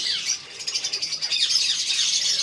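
Budgerigars chirping in a breeding aviary setup, bright rapid tweets and chatter from several birds close by, continuous and loud with no talking.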